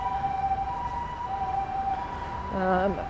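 An ambulance siren holds a steady tone at a distance over low street rumble in Hiroshima, Japan, then swells into a louder rising wail near the end.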